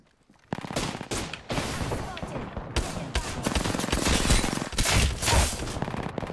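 Rapid gunfire in an online team-based shooter video game, dense overlapping bursts of automatic shots that keep going steadily and loudly through the whole stretch with no break.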